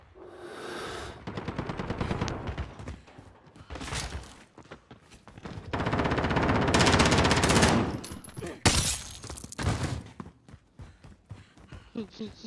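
Loud bursts of automatic gunfire in the video game Call of Duty Modern Warfare, with rapid volleys and scattered single shots separated by brief pauses.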